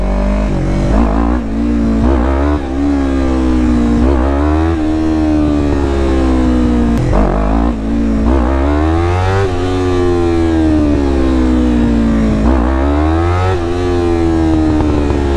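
A Yamaha R3 motorcycle engine revs hard in repeated rising and falling surges during power wheelie attempts, loud and close, climbing in pitch then dropping back between several bursts.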